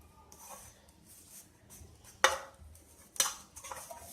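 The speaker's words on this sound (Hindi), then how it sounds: "बटर या ऑयल किसी से भी ग्रीस करें, अच्छी तरह से ग्रीस कर ले बर्तन को ताकि हमारा केक अच्छी तरह से निकल जाए" A steel cake tin is handled while being greased with butter or oil, giving soft rubbing and scraping sounds broken by two sharp metallic clanks, close by and without speech.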